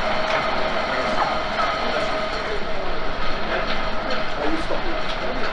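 A steady, dense mechanical roar with rumbling low end and faint metallic clatter, continuous and loud, as slurry surges through large pipes of a tunnel boring machine building a high-speed railway tunnel.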